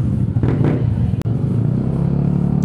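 A Yamaha Aerox scooter engine idles and revs at a racetrack with a steady buzzing drone, rising briefly a couple of times, close and fairly loud, with one sharp click.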